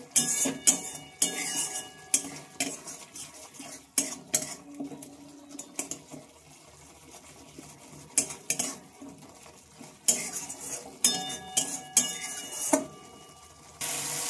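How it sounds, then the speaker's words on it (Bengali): Spice masala being stirred and sautéed in a pan over a raised gas flame for a jackfruit fritter dish, with repeated clinks and scrapes of a metal spoon against the pan and a soft fry underneath, no talking. "আর মশলাটা ভালোভাবে কষিয়ে নেব"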